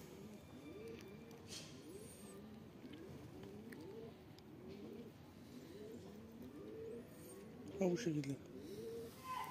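Newly bought pigeons coo in a repeated rolling rhythm close by, steady throughout, while a person talks over them in a home setting.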